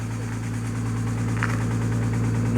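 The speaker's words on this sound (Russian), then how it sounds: "А вот звук с глушителя." Exhaust from a Mitsubishi 6A13 engine's muffler gives a steady, even idle drone with low pulsing, close and constant, with no misfire or stumble.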